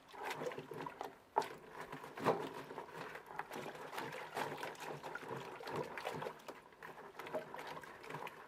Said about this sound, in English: That's what's in this bucket, rainwater.